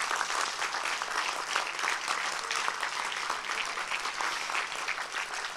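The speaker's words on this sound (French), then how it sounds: "Et je crois qu'on peut vraiment l'applaudir." Audience applause at the close of a conference day on connected agriculture, a dense, steady wash of clapping from a sizeable crowd that holds evenly throughout.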